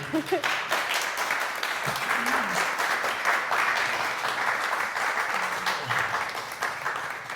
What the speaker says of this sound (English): Give Kate a great round of applause.